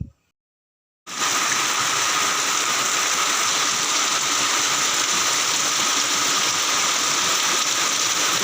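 After a second of silence, a loud morning downpour of heavy rain starts suddenly and keeps up as a dense, steady roar, close by and alone with no talking.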